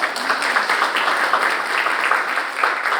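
An audience at a California math framework presentation applauds with steady, dense clapping that fills the room continuously from start to finish, loud and close, with no talk over it.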